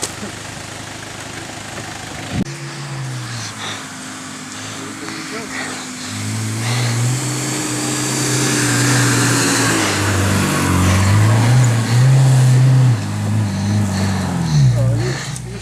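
Opel Frontera engine stuck in mud, starting with a low idle and then revving in long strained surges that grow louder, with people talking over it.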